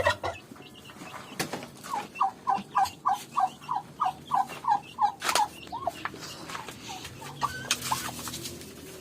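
A run of turkey gobbles in quick rhythmic succession, fairly close, followed by scattered softer clucks from other fowl.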